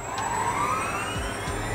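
A CNC router spindle spins up and holds at 10,000 RPM, a steady, close, whining drone with a slowly rising pitch and a sustained tonal hum.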